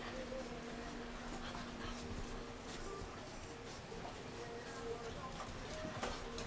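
Bullmastiff puppies whimpering and yipping at bedtime, with thin high whines and short yips scattered over a constant background hum, while a person talks softly nearby.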